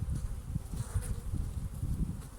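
Honey bees swarming around their hives in Antalya, a steady close buzzing hum with no talk over it.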